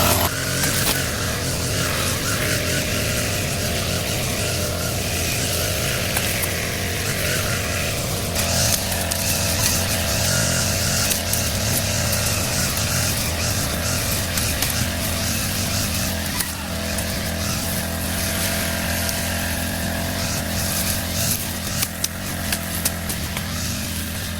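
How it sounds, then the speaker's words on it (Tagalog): A grass cutter runs steadily at a distance in an outdoor field, its engine drone continuous and broadband at moderate level throughout, with no talking. "Medyo malayo na po yung nagagrass cutter"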